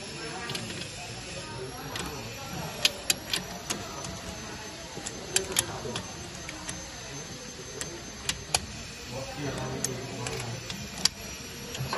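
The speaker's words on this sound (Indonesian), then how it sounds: "kita kencangkan dengan menggunakan kunci sok ukuran 22" A size 22 socket wrench tightens a suspension bolt, making a run of faint, irregular ratchet clicks over steady background hiss.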